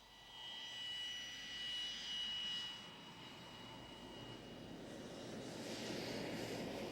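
An RNZAF A-4 Skyhawk jet in gold, red, white and blue 50th-anniversary livery flies past at the 1987 Ardmore Air Pageant, a steady distant jet roar with a broad hiss that swells slightly toward the end.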